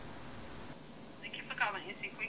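A recorded phone call to the NC Quick Pass toll service carries telephone tones: a faint steady tone at the start, then a quick series of brighter beeps, over a low line hiss.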